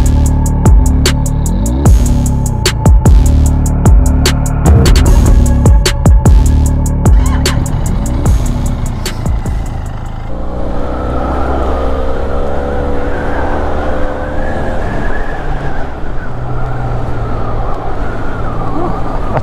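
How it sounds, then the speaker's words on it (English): A stock 2021 Benelli 502c custom cruiser motorcycle on the move, its engine droning and revving loudly for the first half before steady wind rush and a lower engine hum take over. "Today I'm on something different. I'm on a Benelli 502c custom cruiser."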